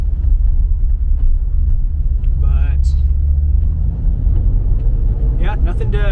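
Steady low cabin rumble of road and tyre noise inside a Jaguar XE SV Project 8 on the move, a constant droning hum with a few brief chirps and squeaks, while someone speaks over it.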